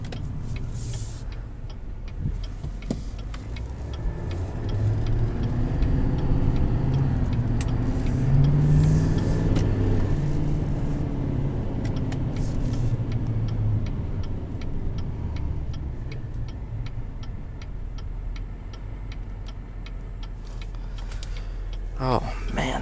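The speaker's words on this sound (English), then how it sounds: "I've never driven a diesel that just throws you back" A 2020 GMC Sierra 3500HD Denali diesel pickup accelerating, a low, steady engine rumble swelling and easing heard from inside the cab, with a faint rhythmic ticking and someone talking over it.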